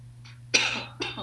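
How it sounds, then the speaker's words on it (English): A person coughs twice, a short faint cough followed by a louder, harsher burst and then a second cough, close to the microphone over a steady low electrical hum in a classroom setting. "And I'm coughing."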